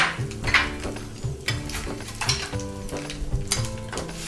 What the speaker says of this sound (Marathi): तेल तापलेलं आहे, मोहरी, जिरं टाकलं आणि हिंग, कढीपत्ता